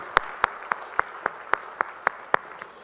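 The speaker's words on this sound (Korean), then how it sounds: "우리 모두 우리 주님께 영광의 박수 올리겠습니다" A church congregation at a Sunday worship service claps in praise, heard as evenly spaced, sharp unison claps in a steady rhythm, fairly faint, about ten beats in a row.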